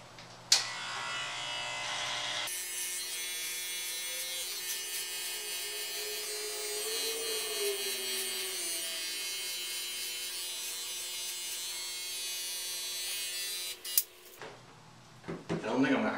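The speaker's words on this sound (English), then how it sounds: "I'm gonna get this part off here" An electric trimmer cuts a long, five-inch beard with a steady, close buzzing hum that rises and falls slightly as it moves. It runs for about twelve seconds, then stops, followed by a few handling clicks.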